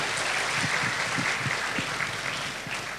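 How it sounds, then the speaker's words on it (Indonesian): An audience at Universitas Dian Nuswantoro in Semarang breaks into loud, dense applause that fills the hall evenly, with a few heavier thumps mixed in, tapering slightly near the end. "Tepuk tangan, hebat sekali"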